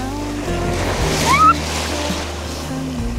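Ocean waves wash onto the sand at Zandvoort beach in the Netherlands, a steady broadband surf roar with wind noise, loud and close, with a brief high tone in the middle.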